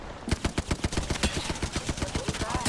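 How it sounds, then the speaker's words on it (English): Rapid automatic enemy gunfire in a shooter video game, a steady rhythmic burst of evenly spaced shots running throughout at moderate loudness, with no talk over it. "The enemies are shooting at me."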